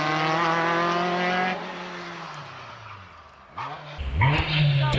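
A Suzuki race car at the Prescott hill climb revs hard and shifts through gears, the engine tone falling away then rising again as another loud pass comes close.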